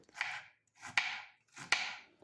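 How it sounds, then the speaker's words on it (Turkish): A knife chops firmly through quince on a cutting board, dicing it into cubes, three even strokes in a steady rhythm, close by with no talking. "ayvamızı bu şekilde 4 eşit parçaya bölelim ve küp küp doğrayalım."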